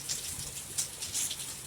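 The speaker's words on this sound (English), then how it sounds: "rain's coming down even harder." Steady broadband hiss of heavy rain pouring down outdoors at the start of Hurricane Dorian, dense and continuous with occasional louder gusty swells, no voices.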